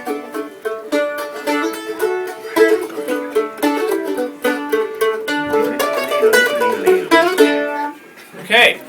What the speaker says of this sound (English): It's called a mandolin.